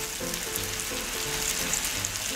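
Pad thai rice noodles with egg and sauce being stir-fried in a pan, a steady close sizzle with scraping stirs and soft tonal clinks running through the whole stretch.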